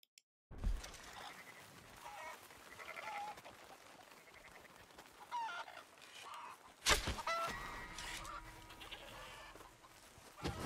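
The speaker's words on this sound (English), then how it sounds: "I need 4 more chickens killed." Chickens clucking in the video game Red Dead Redemption 2, several bursts of fowl calls and squawks over a rustling outdoor background, with one loud sharp burst partway through and no talking.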